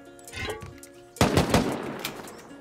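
Automated turret firing at raiders attacking a vehicle bunker base in a survival video game, a quieter rattle of shots followed by a loud close burst of rapid gunfire that trails off.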